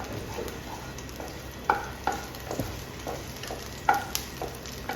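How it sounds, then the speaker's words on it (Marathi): Garlic, green chili and bay leaf sauté in a pan with a steady low sizzle. A utensil stirs and scrapes against the pan in irregular clinks. "हे व्यवस्थित आपण आता परतून घ्यायचं।"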